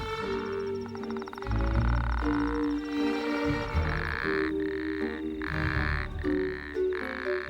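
An Arabian toad calls at night in a wadi, a loud, close, sustained croaking chorus with repeated pulsed bursts and rhythmic trilling notes over about seven seconds.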